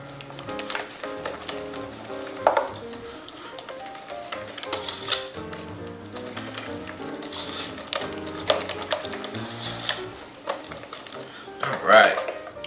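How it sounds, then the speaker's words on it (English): Eggs beaten by hand with a whisk in a bowl for pecan pie filling, a rapid clattering of wire against the bowl, irregular and close, with some brief background noise. "We'll beat that egg in, just like so."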